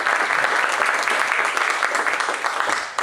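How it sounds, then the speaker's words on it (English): An audience at a museum talk gives a round of applause to a councillor and a professor, dense steady clapping filling the room for about three seconds, loud and continuous without speech over it. "Please give them a round of applause."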